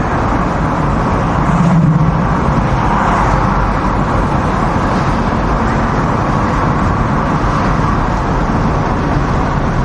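Cars drive out of an Australia Day car event, with a dense, loud rumble of engines and road noise continuing throughout and no clear individual passes.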